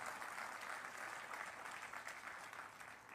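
Loud, sustained applause from a large audience at an Uttar Pradesh industrial investment event, a dense unbroken clatter of clapping that holds steady for the full three seconds with no voices over it.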